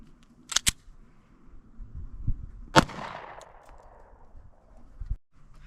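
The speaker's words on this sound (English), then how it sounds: "next up we have 9mm out of the Sig Sauer P365 XL" A Sig Sauer P365 XL pistol fires 9mm into bricks: a single sharp, loud crack with a short decaying tail, preceded by two quick clicks and set against faint background rustle.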